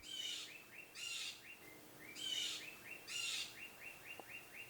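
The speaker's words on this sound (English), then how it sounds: "Birds are going crazy right now." Birds chirping outdoors in quick repeated bursts of bright trilled calls, four clusters about a second apart, fairly faint and heard without talk.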